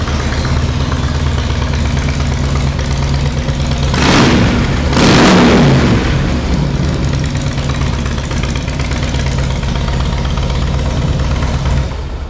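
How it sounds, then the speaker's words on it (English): A 2007 Harley-Davidson Softail Deuce FXSTD with Vance & Hines mufflers idles with a loud, deep, lumpy rumble, rising in two quick throttle blips midway before settling back to a steady idle, with no voices. "Vance & Hines mufflers sound good on this bike."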